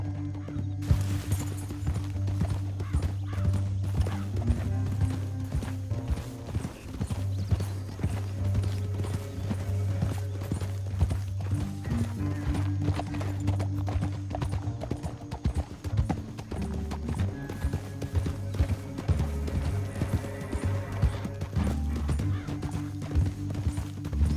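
Horse hooves clip-clop steadily through the whole stretch in Red Dead Redemption II, a continuous rhythmic trotting over a low drone of game music and ambience, with no talk.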